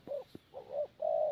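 A spotted dove coos close by in a short series of soft, hollow notes, ending in a longer sustained call, clear against near silence.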